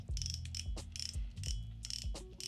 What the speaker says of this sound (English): Drag sounds like this. A little more dampened, kind of similar to the Strive.